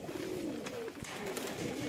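Pigeons coo softly in a pigeon loft, with low, rolling calls repeating faintly over a quiet background.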